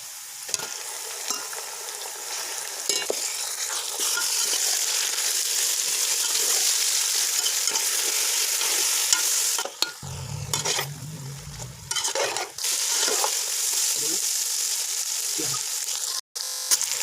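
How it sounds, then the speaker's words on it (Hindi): Minced meat keema frying with browned onions over high heat, a loud, steady sizzle that runs throughout with repeated scraping stirs, briefly dipping and returning partway through. "इसको तेज़ आंच पे इसका कलर होने तक इसको ऐसे लगातार भूनना है।"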